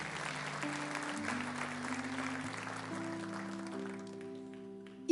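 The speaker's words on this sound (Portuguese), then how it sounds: "dê um aplauso ao Senhor" A church congregation applauds with steady, sustained clapping while sustained organ or keyboard chords play beneath it during a worship service.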